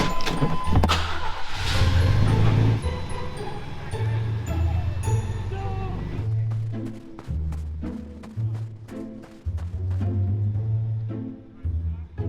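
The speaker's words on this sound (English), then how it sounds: "We need to give him the keys and get this thing started." A fully restored Chevy truck's engine cranks and catches, settling into a loud idle with some revving, followed by uneven rumbling and clatter as the engine runs, with voices faintly mixed in.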